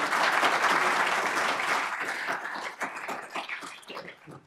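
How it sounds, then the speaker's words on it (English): Audience at a business community report event applauding their host Cargill, a loud, full round of clapping that starts strong and gradually thins to scattered claps. "please join me in a round of applause for our host"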